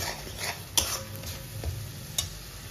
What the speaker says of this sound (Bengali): ভালো করে মশলাটাকে কষিয়ে নিব যতক্ষণ না আদা রসুনের গন্ধ যায়।